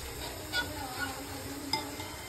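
Onion fries in a pan for biryani with a faint, steady sizzle, marked by a few light clinks of stirring, quiet and close.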